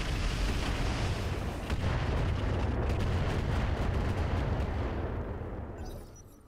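Mech weapons fire in the BattleTech-based game Roguetech: a dense, continuous barrage of booming shots and rumble, loud and sustained for several seconds before tapering off at the end.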